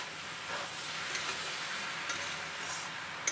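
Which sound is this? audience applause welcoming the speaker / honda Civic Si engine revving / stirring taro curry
stirring taro curry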